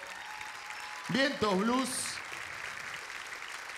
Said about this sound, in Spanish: Que se mantenga y que se haga más fuerte el aplauso.